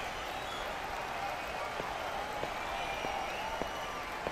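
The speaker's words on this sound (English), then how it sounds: "this crowd's gonna make me go deaf" A crowd in the Fist of the North Star game fills the space with steady broadband roar and cheering throughout, with a few sharp claps or hits popping up through the din.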